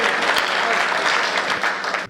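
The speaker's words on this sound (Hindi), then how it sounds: "एक बार तालियां जरा अच्छे से बजाओ तब बुलाऊंगा।" Applause from the audience at a Hindi comic poetry show (kavi sammelan), a dense burst of clapping that holds steady for about two seconds and then cuts off.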